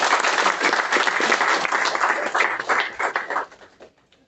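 Audience applause at a public event in Indore about tree planting and the environment, a dense sustained burst of clapping that fills the space and then thins and fades out over the last second.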